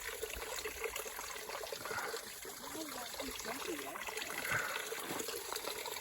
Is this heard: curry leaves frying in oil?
no